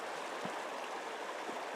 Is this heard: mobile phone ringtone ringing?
no